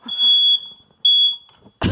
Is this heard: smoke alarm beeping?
yes